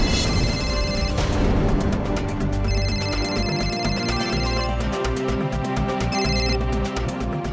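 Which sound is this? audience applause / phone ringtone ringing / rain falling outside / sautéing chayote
phone ringtone ringing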